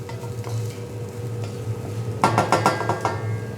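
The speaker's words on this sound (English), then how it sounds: "So once I've sweated down my shallot and garlic," Shallot and garlic sweating gently in a pan during a culinary skills test, a soft steady sizzle under a low kitchen hum, joined in the second half by a run of close, quick stirring scrapes and clinks of a spoon against the pan.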